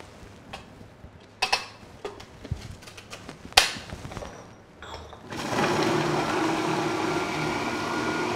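A Robot Coupe food processor mixes almond paste with lemon zest and caster sugar, starting after a few clicks and knocks as a steady, close whirring hum that continues to the end.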